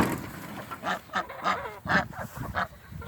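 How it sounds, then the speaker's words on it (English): Ducks in a movable grazing pen give a run of honking, quacking calls in short bursts, close by and fairly loud, with no talk over them. "Then there's the ducks."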